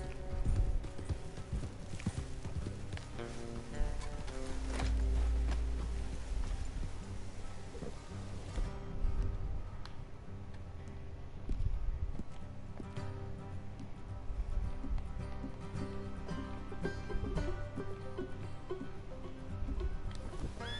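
Horse hooves clip-clop at a steady walking pace in the video game Red Dead Redemption 2, under a soft, sustained musical backdrop, with no voices heard.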